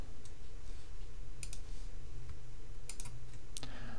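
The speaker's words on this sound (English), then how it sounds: "If I hold the option key and click between the two of these layers," Photoshop work on a computer: keyboard presses including the option key and mouse clicks in a few quick close bursts over steady fan-like room noise, with no talking.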